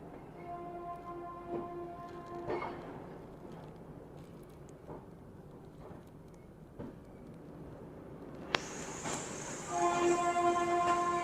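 Pawan Express passenger train running from Jayanagar to LTT Mumbai, heard from inside a coach as a steady rumble with tonal hums, then a loud sustained high horn or whistle burst near the end over the ongoing rolling noise.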